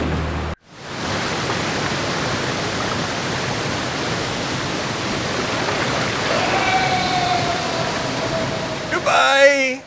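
Rushing water roars steadily and loudly in the video game Lands of Lore: Guardians of Destiny, a constant broadband wash that starts after a brief cut, with a short tonal warble over it near the end.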